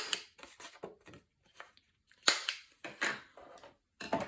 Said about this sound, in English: Miter these corners and then round the other 2 corners.